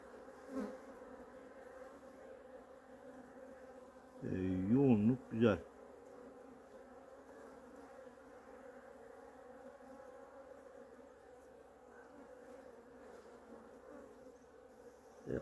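A low, constant hum of many honeybees buzzes around a hive in light drizzle, the bees staying at the hive rather than flying out, with one louder bee passing close by for a moment.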